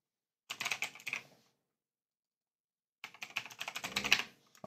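Fast bursts of computer keyboard typing while entering a username and password, two separate runs of quick, light key clicks broken by a short silent pause, close and quiet.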